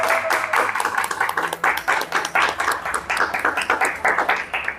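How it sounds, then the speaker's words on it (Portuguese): A small audience claps at the close of a cinema talk with the Coletivo Lente Clandestina collective, rhythmic hand claps repeating steadily and fairly close, with no talk over them. "Vamos, gente, palmas pra gente,"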